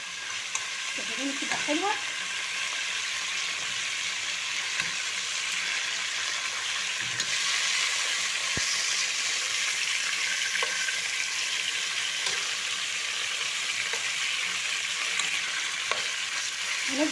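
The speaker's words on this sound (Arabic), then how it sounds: "هنفضل نحمرها لغايه ما تيجي لون حلو قوي" Meat for kabsa sizzling and frying in a pot while being stirred, with a steady crackling hiss, scraping stir strokes and occasional clinks, close up; someone speaks briefly over it.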